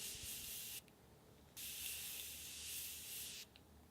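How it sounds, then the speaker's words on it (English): A makeup setting spray with a continuous air-powered mister, released in two long, even hissing bursts separated by a short pause, close and quiet with no talk. "Continuous air-powered spray delivers even and controlled application."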